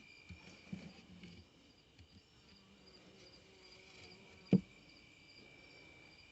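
Faint, thin insect buzzing from bees around a gap in a hive box, a low steady drone with a single sharp knock partway through and no talking.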